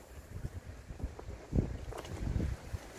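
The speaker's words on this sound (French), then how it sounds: "Il fait un vent." Wind blows outdoors on a roadside near a car and a tree, heard as soft, low rumbling gusts against the microphone that swell slightly toward the end.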